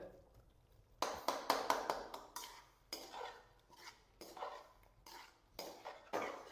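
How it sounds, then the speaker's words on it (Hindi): Tomatoes being mashed with a utensil in a karahi holding potatoes make a series of clattering metal-on-pan taps and scrapes. The strikes come in irregular clusters, close and moderately quiet. "ये मैं टमाटर को मार रहा हूं, आलू को नहीं मारना है"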